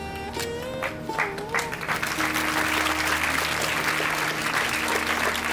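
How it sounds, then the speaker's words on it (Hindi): Loud, sustained applause fills a ceremony hall marking Bhagat Singh's birth anniversary in Delhi, a dense wash of clapping that begins with a few musical tones underneath and then holds steady to the end. "एक बार जोरदार तालियां।"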